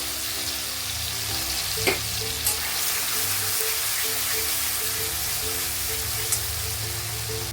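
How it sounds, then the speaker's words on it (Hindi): Tomato-cashew masala paste frying in a pan for a jackfruit curry, a steady close sizzle throughout with a few faint clicks of stirring, no voices. "डाल के अच्छी तरह भूनना है मसाला को"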